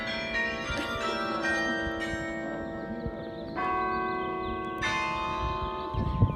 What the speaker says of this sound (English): I just like the way the bells sound